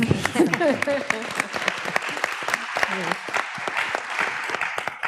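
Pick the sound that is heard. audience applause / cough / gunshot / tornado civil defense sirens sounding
audience applause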